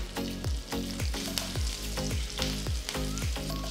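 Mustard seeds, dried red chillies, asafoetida and curry leaves sizzle in hot oil for a tempering for coconut coriander chutney, a loud steady crackle broken by sharp repeated spatters and pops, with no voices.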